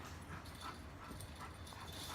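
A dog outdoors whimpers faintly in a string of soft, repeated whines over quiet background noise.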